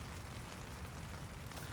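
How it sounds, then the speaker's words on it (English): Rain patters on a hot tent on a wet, windy camping night, a faint, steady hiss of drops with small irregular taps and no voices. "It's raining."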